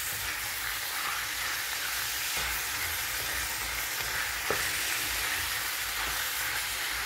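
Chilli con carne simmers in a pan with a steady, dense hiss and sizzle that holds evenly throughout, with a faint tap partway through and no voices.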